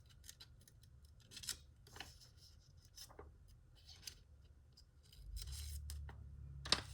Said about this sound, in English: I'm just wiggling my scissors.